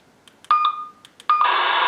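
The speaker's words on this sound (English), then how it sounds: "So you can hear the static on that." A burst of electronic beeps and tones from a Midland MXT275 GMRS mobile radio, then a sudden loud, steady hiss of static from its speaker that holds to the end.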